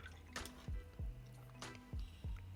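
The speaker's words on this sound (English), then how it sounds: "Wash the brush" A paintbrush swished and tapped in a small pot of water, giving several close, distinct watery plinks and drips at an uneven rhythm, quiet and without any talk.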